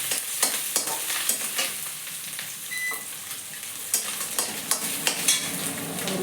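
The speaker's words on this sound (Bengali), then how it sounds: "এবার আমি ডালটা দিয়ে দেবো।" Lentils tipped into a hot frying pan and stirred, giving a continuous sizzle broken by regular scraping and knocking of a spoon against the pan, close up with no voices.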